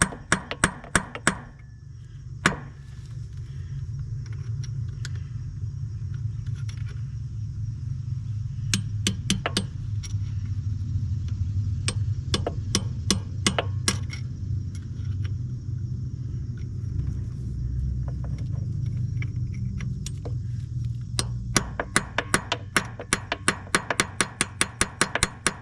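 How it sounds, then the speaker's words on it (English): A steel punch is hammered against the inner locking nut on the axle of a 1968 International Loadstar CO-1700 truck. Sharp metallic strikes land in irregular bursts, with a dense rapid flurry near the end, all over a steady low rumble. "We don't have a socket, so we're using a punch"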